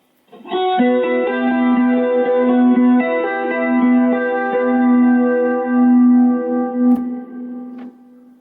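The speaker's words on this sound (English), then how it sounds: "We'll run through the wet side only, which is getting all of the modulation and the delay." Electric guitar playing a short melodic phrase, notes shimmering and wobbling with modulation and trailing echoes that blur into a lush, washy sustain.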